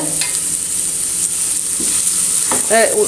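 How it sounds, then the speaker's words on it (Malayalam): Finely chopped large onion, sprinkled with salt, sizzles in a pan with continuous frying hiss while a spatula stirs and scrapes it, close and fairly loud. "അതിലേക്ക് ഒരു വലിയ സവാള പൊടിയായി അരിഞ്ഞത് ഇട്ട് കൊടുക്കാം"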